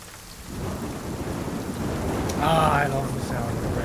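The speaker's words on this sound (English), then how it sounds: "I love the sound of rain" Steady rain and rumbling thunder from a tabletop role-playing game's background ambience, a continuous wash that swells slightly near the end, with a faint voice murmuring beneath it.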